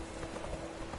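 Roach the horse's hooves in The Witcher 3, a quick, close clip-clop of hoofbeats over a dense, steady game background, lasting only a moment.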